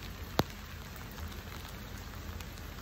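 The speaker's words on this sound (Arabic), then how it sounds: "وباقا كتشتي هادشي." Steady rain falls throughout, a dense, even patter on outdoor surfaces with one sharp drop or tap standing out near the start; no voices.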